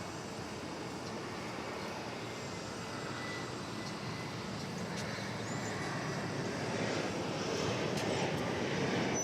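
An Embraer 175 airliner passes at DFW Airport in wet weather, a broad, steady jet roar that slowly swells in loudness without any talk.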